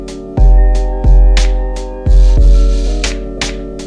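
A chopped-up drum loop for a beat flipped from a Russian jazz ensemble sample, with punchy deep kicks and bright snare-like hits in a loose, slightly off-time pattern over a sustained harmonic bed, loud and up front.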